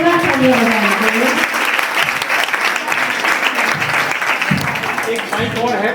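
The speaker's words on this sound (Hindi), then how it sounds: "जोरदार ताली बजाएंगे" Crowd clapping heartily at a Jain temple quiz gathering, a sustained wash of hands while a voice keeps talking over it.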